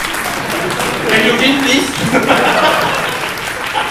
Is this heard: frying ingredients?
no